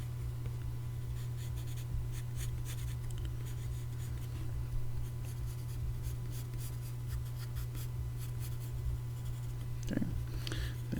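A pencil sketches detail onto paper in repeated short scratchy strokes, close and fairly quiet, over a constant low electrical hum in the room.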